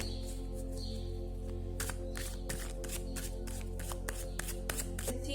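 Osho Zen tarot cards being shuffled by hand, a run of quick crisp riffling bursts over a steady low hum, close and fairly quiet, with no talk.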